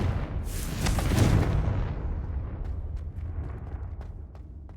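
A Confringo fire spell in Hogwarts Legacy bursts loud and close, a roaring explosive blast that swells over the first two seconds and then rumbles away into a fading crackling tail.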